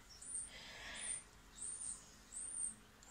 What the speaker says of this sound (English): You can hear some birds outside.